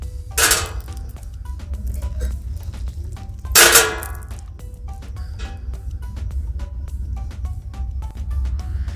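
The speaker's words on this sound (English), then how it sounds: "First we have to cut the stem of eggplants like this." A knife cuts the stems off eggplants on a board for Turkish stuffed eggplant, Imam Bayildi, with two sharp chopping knocks near the start and a few lighter taps after over a low kitchen hum.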